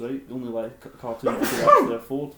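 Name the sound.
sneeze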